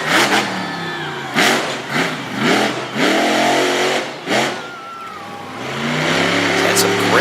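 The Overkill Evolution monster truck engine roars in repeated bursts of revving and falling pitch as it launches into jumps and lands at an arena event, loud and close, with a commentator talking over it.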